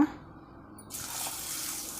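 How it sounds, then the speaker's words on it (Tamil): Tap water runs and pours steadily into a bowl to wash finger millet (ragi) and lentils in a home kitchen, a quiet start giving way to a continuous splashing flow. "இதை வந்து நல்லா தண்ணி ஊற்றி நல்லா வந்து கழுவி எடுத்துக்கலாங்க"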